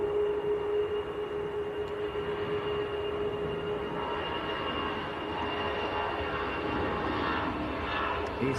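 EasyJet airliner departing Manchester Airport for Belfast, a continuous engine drone with a steady tonal hum over broad rumble at moderate distance, no talking over it.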